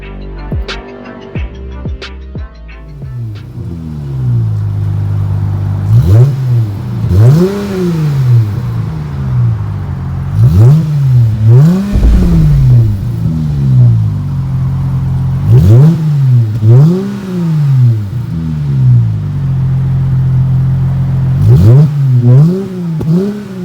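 A 2019 Dodge Challenger SXT V6 with an Xlerator stainless true dual exhaust is revved repeatedly, each loud rise and fall of the engine note following a short idle, in a regular pattern of blips close up.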